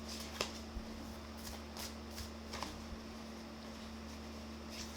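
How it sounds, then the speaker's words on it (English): Tarot cards shuffled by hand at close range, soft papery riffles with a few light taps spread over several seconds in a quiet room. "I'm going to keep shuffling."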